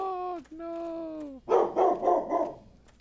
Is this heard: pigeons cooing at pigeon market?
no